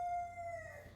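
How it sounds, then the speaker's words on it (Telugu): A rooster's crow, a single drawn-out tone that slides slightly downward and fades over about a second, fairly faint and alone. "కుకురుకు అనే శబ్దం వినిపిస్తుంది"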